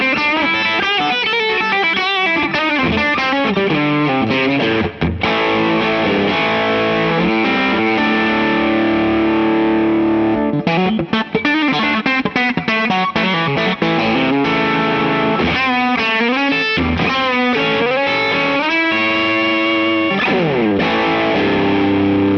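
Electric guitar played through an amplifier set to its clean boost mode, loud and continuous with busy chords and single-note runs over about twenty seconds, a slight gritty edge to the tone.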